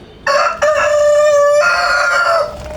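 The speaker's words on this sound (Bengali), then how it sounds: "টাইগার মুরগি আছে, তিতির মুরগি আছে।" A rooster on a farm with tiger chickens and guinea fowl crows once, loud and close: a long drawn-out call held for about two seconds before trailing off.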